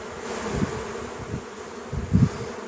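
Honey bees hum at a hive during queen rearing, a low, continuous buzz with a couple of louder bursts as bees fly near, no voices.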